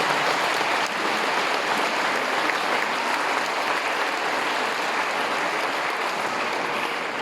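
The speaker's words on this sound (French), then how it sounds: "Vous pouvez nous applaudir chaleureusement." Warm, sustained applause from a show audience, a thick unbroken wash of many hands clapping at an even loudness from start to finish.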